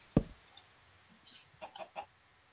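A video game chicken: a sharp knock, then a quick run of short clucks near the end, faint and alone.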